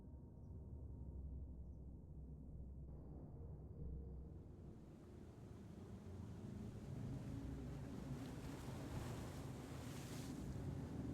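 Steady wind gusts and a broad ocean-like rush sweep across an exposed spot in the video game Tainted Grail, continuous and moderately faint with no talking.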